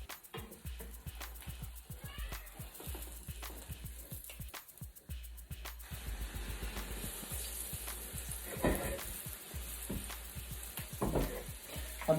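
A fluffy street-food omelette fries on its second side with a continuous crackling sizzle, punctuated by rapid spatter pops and clicks that thicken in the second half, with no talking.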